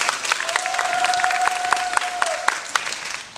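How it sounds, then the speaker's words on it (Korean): A crowd claps steadily for a few seconds, the applause fading toward the end, with a brief held tone ringing through the middle. "큰 박수 부탁드립니다."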